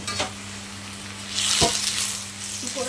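Kailan greens stir-fry in a pan with a steady sizzle, while a spatula scrapes and tosses the leaves in brief bursts over a low, constant hum.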